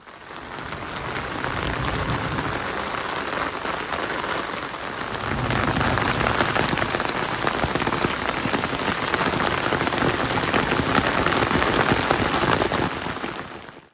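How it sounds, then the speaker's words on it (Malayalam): Light rain pattering steadily on surfaces in Bangalore, continuous and fairly even throughout, with no voices. "ഈ ഒരു സമയത്ത് വീണ്ടും മഴ ചെറുതായിട്ട് പൊടിയാനായിട്ട് തുടങ്ങിയിട്ടുണ്ട് കേട്ടോ"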